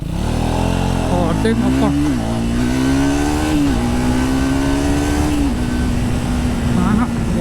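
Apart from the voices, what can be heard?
Triumph Speed 400 motorcycle launch acceleration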